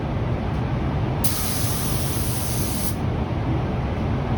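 A spray gun lays a second coat of LeMans Blue paint on the fenders of a C6 Corvette ZR1 in a steady, loud hiss that swells into a stronger burst for almost two seconds.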